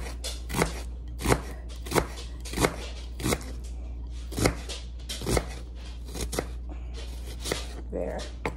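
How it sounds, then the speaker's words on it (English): Knife dicing onion on a cutting board, with crisp, evenly spaced chops close by, about one every two-thirds of a second, over a steady low background hum. "And finally, onion, diced onion too"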